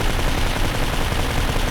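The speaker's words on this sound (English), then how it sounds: "Yeah, somebody was shooting." Sustained, dense gunfire in the World War II shooter Forgotten Hope on the Desert Winds map, loud and continuous machine-gun bursts with no talk over them.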